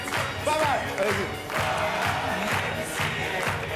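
A studio audience on the French game show Attention à la marche claps and cheers in a dense, steady wash of applause, with a few voices calling out over it.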